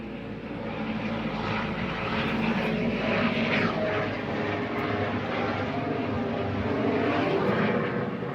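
Propeller airplane passing overhead outdoors beside a Volvo V70, a steady loud engine drone that swells and slowly shifts in pitch, heard alone without talk.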